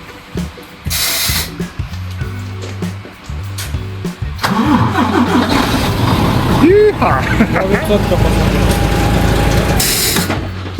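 A car engine cranks and catches with help from a CARKU 24-volt jump starter, the battery disconnected and heavy rain falling; a rising churn of engine noise comes under loud nearby talk.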